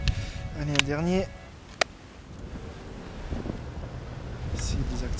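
A strong headwind gusts across a lake during carp fishing, roaring as broadband rushing noise against the microphone, with a voice heard briefly at the start.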